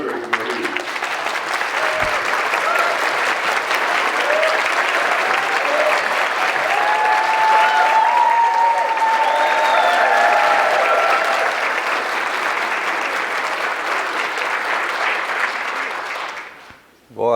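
A crowd at a Wesak 2013 gathering gives Clifford Mahooty long, sustained applause, dense and steady clapping with some faint voices and whistles mixed in, fading out near the end.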